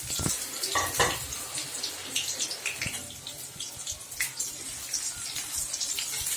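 Chopped onions drop into hot oil in a wok and fry with a steady hiss and crackle, with some clattering stirring near the start, close and fairly loud.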